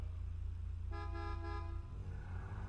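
A car horn honks once in a video game, a short bright toot lasting just under a second over a steady low engine drone, with no voices.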